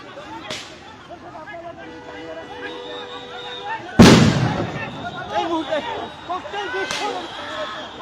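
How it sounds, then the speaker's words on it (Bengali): Police throw sound grenades at a street protest on a road near Jamuna: three sharp, loud blasts spaced a few seconds apart, the middle one heaviest, with crowd noise and talk between them. "কিছুক্ষণ পর পরে আসলে সাউন্ড গ্রেনেড নিক্ষেপ করছে পুলিশ"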